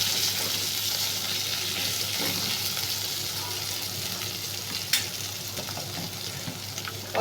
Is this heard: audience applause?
no